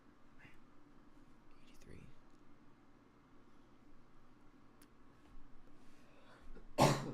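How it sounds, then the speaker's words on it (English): A single short cough from a person near the microphone bursts out at the very end, after a stretch of quiet room tone and faint background noise during live trading. "Sorry about the cough, guys."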